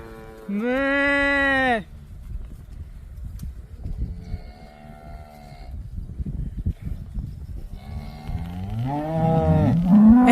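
Cattle by a roadside in Oklahoma bellow in several long, loud moos, one close and strong at the start, then fainter calls from others, over low wind and road noise.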